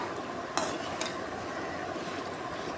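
Ash gourd and raw banana curry being stirred in a pan on low heat, with a couple of sharp spoon clinks against the metal over a soft continuous cooking hiss.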